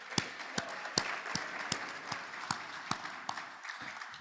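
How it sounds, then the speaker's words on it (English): Scattered applause at a Rotary Club meeting, a few distinct close claps at a regular beat over a soft background of lighter clapping, fairly quiet. "Let's get a big round of applause."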